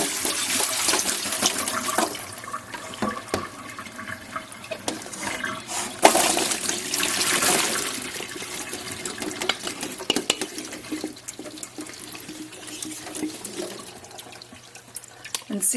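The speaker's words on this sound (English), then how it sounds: "So into the strainer we go." Starchy water from cooked potatoes pours out of a pan into a strainer in a kitchen, a continuous rushing splash that swells and fades, with a sharp clatter partway through.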